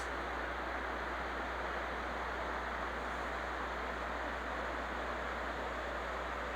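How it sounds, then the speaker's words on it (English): Rapids on the Clearwater River in Idaho rush in a steady, broadband roar of water that stays constant and fairly distant, with no voices and no breaks. "You hear the rapids?"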